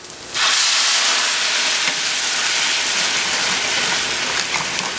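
Apple brandy hits a hot pan of cooking pork chops with a sudden loud burst of steamy sizzle, then settles into a sustained, fierce hiss that holds steady without any voices.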